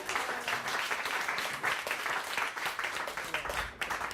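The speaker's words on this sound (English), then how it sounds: "big round of applause" A group at a team motivation workshop applauds steadily for about four seconds, a dense mid-distance clatter of many hands without a clear rhythm and with no speech over it.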